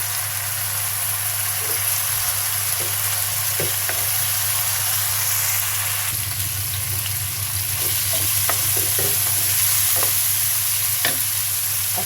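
Bay leaves dropped into beef kidney frying in a pan, a loud continuous sizzle and hiss with a low hum beneath and scattered light clicks and taps, close up.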